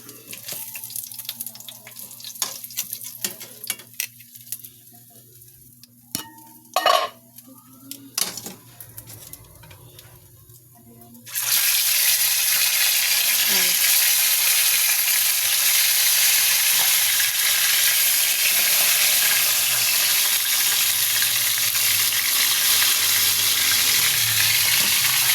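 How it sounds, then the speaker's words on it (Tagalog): After some quiet clinks and kitchen handling, loud, steady sizzling of chicken frying in hot oil starts abruptly and continues close up. "Prito na ako chicken."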